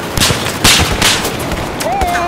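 Rapid popping shots from a BB gun in a video game, several sharp cracks in quick succession over a busy game soundtrack, with a rising whistling tone near the end.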